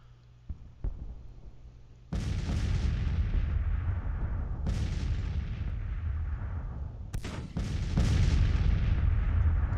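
Artillery fire in Grand Tactician, a Civil War strategy game: a few sharp cannon booms, then heavy repeated blasts rolling into a sustained loud rumble, with fresh reports striking over it.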